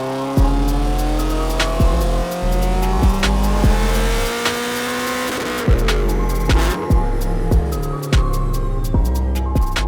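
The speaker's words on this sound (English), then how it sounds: "So we've got the BRZ all ready to go, strapped down on the dyno, and Graham's gonna be tuning it with EcuTec" A supercharged Subaru BRZ engine runs loud and close on a dyno, revving up and down through rising and falling pitch sweeps with sharp shifts between.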